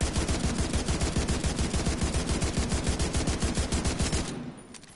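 A CRSS rifle in The Division 2 fires a long, rapid burst of loud, evenly spaced shots close up, then the gunfire stops abruptly and the sound decays over the final half second.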